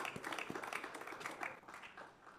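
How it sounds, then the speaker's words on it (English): An audience applauds a conference panel at a climate ocean-action event, a steady wash of clapping at moderate level through the whole stretch, with no talk over it. "give our panel a round of applause for their beautiful message today."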